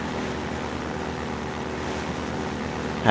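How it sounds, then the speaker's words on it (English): An airboat engine from Half-Life 2 runs on a river, a low steady droning hum with faint water and wind wash, fairly quiet, ending with a brief louder burst. "It has an engine in it."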